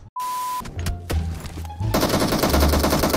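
Rapid bursts of M249 machine gun fire in the mobile game PUBG Mobile, loud rattling automatic shots following a few single cracks and a brief tone.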